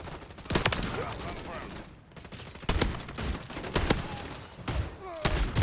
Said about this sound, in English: Yeah, with using the shotgun.